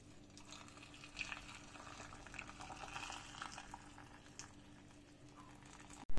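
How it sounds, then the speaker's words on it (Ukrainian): Steady bubbling and hissing of a boiling marinade for honey-preserved peppers, with light splashes as it is poured into jars, fairly close and constant throughout. "Наш маринад закипів, тепер заливаємо в баночки."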